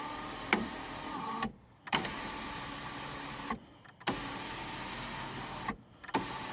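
Sunroof motor on a 2010 Jaguar XF whirring in several short runs separated by brief pauses and small clicks, close and moderately quiet, as the roof is driven closed.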